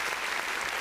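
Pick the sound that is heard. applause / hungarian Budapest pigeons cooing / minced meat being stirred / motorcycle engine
applause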